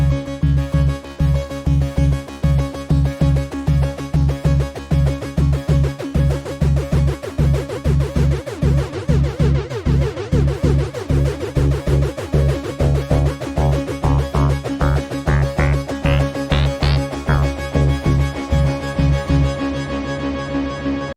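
A driving FM synthesizer bass riff repeats steadily while automated FM level makes its tone grow brighter and more metallic, rising into a sweeping, ringing timbre toward the end.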